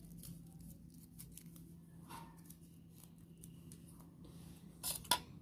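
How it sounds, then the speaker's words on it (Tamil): Scissors cut colored paper in short, crisp snips repeating at an uneven pace over a low steady hum, with a louder snip and rustle toward the end. "நான் வெட்டுற மாதிரியே வெட்டி எடுத்துக்கோங்க."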